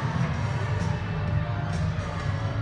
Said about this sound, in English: Interesting chant by the crowd right now